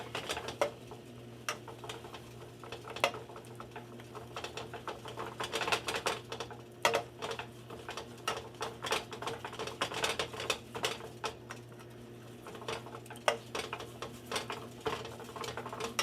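A whisk clicks and taps steadily against a pot as flour is worked slowly into melted butter for a roux, a quiet continuous patter of small metallic strokes over a low hum.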